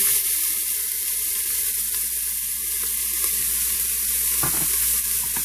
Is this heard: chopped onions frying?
yes